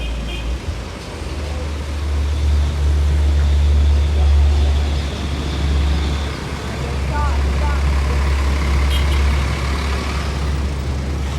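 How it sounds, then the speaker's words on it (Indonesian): A Rosalia Indah bus, number 3154 on the Palembang–Solo–Malang route, idles in the parking lot of its agent office, giving a loud, steady low engine rumble throughout, with voices in the background. "satu lagi bus Rosalia 3154 jurusan Palembang Solo Malang"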